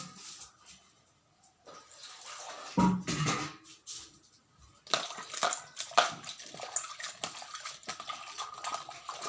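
Tap water being drawn in a home kitchen: irregular splashing and pouring bursts mixed with soft handling clatter, fairly quiet and close, with no talking.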